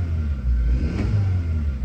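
A 2016 Hyundai Veloster with a 1.6L engine revs briefly, a loud, steady low rumble that swells through a short throttle blip, heard alone without talk.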